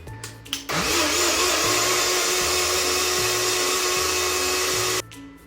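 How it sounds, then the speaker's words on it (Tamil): Blender grinding a mango milkshake, a loud steady whirring roar that starts abruptly after a brief quieter moment and runs for about four seconds before cutting off, with a faint rhythmic low thump beneath. "நம்ம இப்போ அரைக்க வேண்டியதுதான்."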